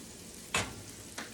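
Butter melting in a hot frying pan while cooking chicken fried rice with peas and carrots gives a quiet, steady sizzle, broken by two brief brighter crackles.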